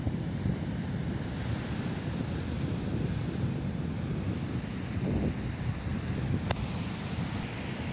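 Surf at Ngudel Beach in south Malang roars in a steady, dense wash of breaking waves mixed with wind noise, loud and continuous throughout.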